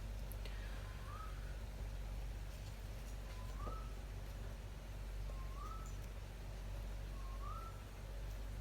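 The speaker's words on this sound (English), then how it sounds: "That bird that you can hear is called a currawong." A currawong repeats a short rising whistled call four times at regular intervals, fairly faint and somewhat distant over a steady low background hum.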